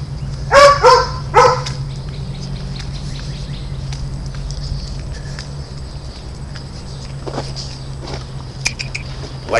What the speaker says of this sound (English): if you heard the dog barking